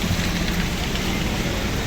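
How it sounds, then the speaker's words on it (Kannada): Heavy rain during a road trip toward Mysore, a steady loud hiss of downpour with no pauses, heard close and alone. "ಫುಲ್ ಮಳೆ"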